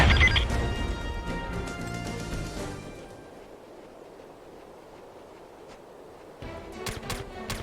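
A grenade blast in the video game SOCOM 2 opens with a loud, harsh crash. The roar fades over several seconds, and a few sharp cracks follow near the end.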